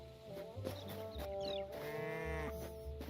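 A cow in the Hytale video game lowing in a few drawn-out moos, faint and set among other farm animal calls and soft background ambience.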